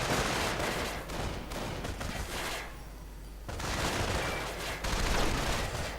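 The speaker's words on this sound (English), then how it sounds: "Jägers here coming under fire from Veterans C3 Rifle, and the Veterans C3 Rifle just tearing through them" Dense, sustained rifle fire from veteran squads armed with C3 rifles rattles through a real-time strategy battle, continuous overlapping shots with a brief lull midway before the barrage resumes.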